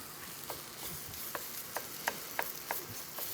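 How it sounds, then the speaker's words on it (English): Chicken marsala in a pan being stirred, giving a faint, steady sizzle with a series of light, evenly spaced utensil taps and scrapes close by. "You want to kind of stir that around a little"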